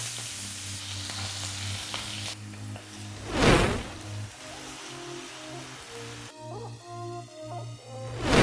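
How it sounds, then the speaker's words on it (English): Potatoes shallow frying in a few tablespoons of oil in a pan, a continuous moderate sizzle with a louder burst of crackling partway through and stirring clinks later on. "First I'm going to shallow fry the potatoes."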